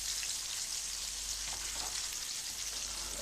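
Flounder frying in a pan, a soft continuous crackling sizzle with scattered pops, fairly quiet and steady throughout over a low background hum.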